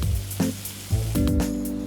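A potato waffle fries in hot oil, giving a loud, close, continuous sizzle with crackling bursts and no talking.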